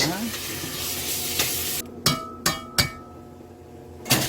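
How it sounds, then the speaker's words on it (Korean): Perilla oil sizzles in a pot as abalone porridge ingredients are stir-fried. There is a steady close frying hiss with stirring, followed by several sharp clinks of a utensil against the pot. "여기다 들기름을 넣고 볶습니다"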